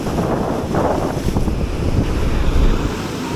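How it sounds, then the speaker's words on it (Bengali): Large waves of the Bay of Bengal rolling and crashing on the shore, a loud continuous roar mixed with heavy wind buffeting the microphone, no voices. "কি পরিমাণ ঢেউ দেখুন, কি পরিমাণ ঢেউ।"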